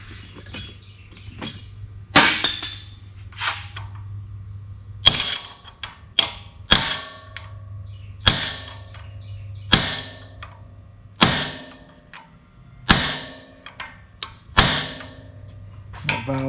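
Sharp metal strikes on a stuck valve of a John Deere 2010 engine that sat for over twenty years, about a dozen ringing hammer blows at irregular intervals, close and clear over a low hum.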